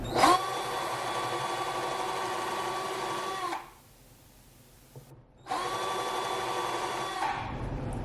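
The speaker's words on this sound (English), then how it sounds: "So let me try to drill a hole first." A power drill boring a hole in a walnut charcuterie board whines steadily for a few seconds, stops briefly with a faint clack, then spins up again and runs with the same high whir.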